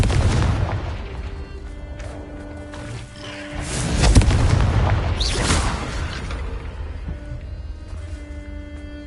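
A Confringo fire-blast spell from Hogwarts Legacy bursts in a deep, rumbling explosion that swells and then fades slowly, over low ambient game music.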